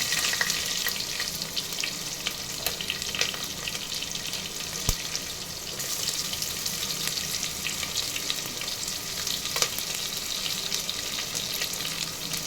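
Onion, green chilies and pulao spices fry in oil left from frying eggs, giving a loud, continuous close sizzle with occasional sharper crackles and faint stirring, and no talking.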